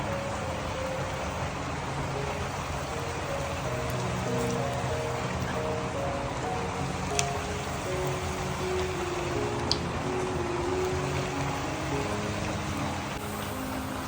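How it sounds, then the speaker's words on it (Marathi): Heavy monsoon rain pours down steadily outside in a Konkan village, a dense, constant hiss that carries on without a break and with no one talking. "मस्त असं बाहेर पावसाचा आवाज येतोय आणि पाऊस पण भरपूर लागतात आहे"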